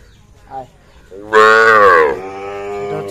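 Sahiwal cattle at a bull market give one loud, drawn-out moo that falls off into a softer lowing tail, with a faint short call just before it.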